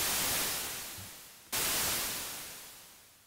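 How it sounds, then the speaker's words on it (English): A synthesized white-noise sweep made with a noise generator in Logic Pro X hisses loudly, fades, then cuts back in abruptly and fades out again. "the way we're going to get this noise sweep is we're going to hold one note with the noise generator"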